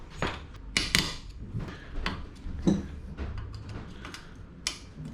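Screws being loosened on a go-kart axle with a hand tool, a series of sharp metallic clicks and ratcheting ticks at irregular intervals, fairly close and moderately quiet.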